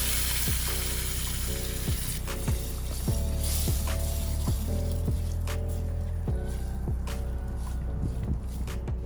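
A whole tin of chopped tomatoes sizzles and spits in a pan of slightly burnt onions on a Trangia 27 camping stove for shakshuka, with a continuous loud fry and repeated scraping, stirring clicks throughout.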